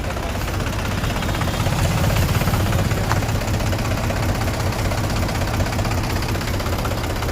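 A tractor engine idles steadily, a loud, continuous low rumble with a rough, knocking texture and no break.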